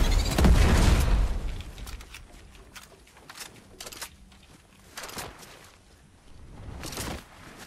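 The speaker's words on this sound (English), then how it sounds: "Don't throw that grenades at me!" A grenade blows up in a ranked online shooter game with a loud, booming blast at the start that rumbles and fades, followed by scattered softer bursts and pops.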